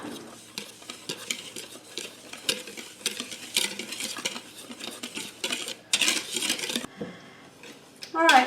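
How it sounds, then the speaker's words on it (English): Dry cake ingredients, flour with baking soda, baking powder and salt, being stirred in a bowl: a run of scraping, clinking strokes with uneven rhythm, close and fairly loud, ending in a louder burst of clatter. "We're going to go ahead now and mix these all together."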